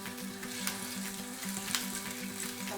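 Ginger frying in a film of oil in a pan gives a steady, close crackling sizzle with a few brief sharper pops, and no voices.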